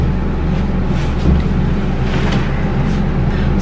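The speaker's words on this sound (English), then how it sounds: "This is the air conditioner because it's kind of warm out." Forced-air air conditioning blowing in a house on a warm day, a constant loud whooshing hiss with a low hum underneath that stays even throughout.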